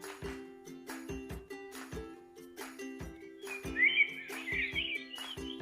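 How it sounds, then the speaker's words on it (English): Bright bird chirps and whistles ring out in short repeated bursts, with a brief warbling trill partway through, fairly close and clear against quiet. "Beautiful birds and their chirping sound."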